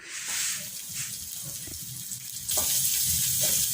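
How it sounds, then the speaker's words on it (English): Ingredients sauteing in a little virgin olive oil for homemade tomato sauce, a steady hissing sizzle that grows louder and brighter partway through, with soft kitchen knocks underneath. "Now let us saute the other ingredients. I use the virgin olive oil here."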